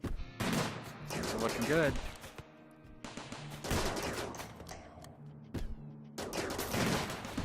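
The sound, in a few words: gunfire in the video game RimWorld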